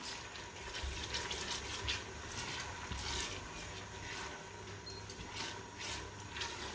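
Onions being stirred in a pan over high heat, a steady sizzle with soft repeated scraping and rubbing strokes of the utensil, close and continuous with no talking.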